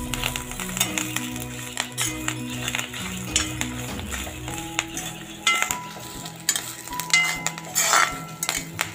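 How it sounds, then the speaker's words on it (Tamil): Spices and curry leaves fry in hot oil for a country chicken gravy, a steady close sizzle broken by frequent stirring scrapes and clinks of a utensil against the pan. "எல்லா ஸ்பைசஸும் நல்லா வதங்கட்டும்."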